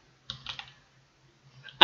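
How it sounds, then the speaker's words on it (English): Short bursts of keystrokes on a computer keyboard: a quick cluster of clicks, a pause with faint hum, then a few more taps ending in a sharp, louder key press close by. "I typed in jungle"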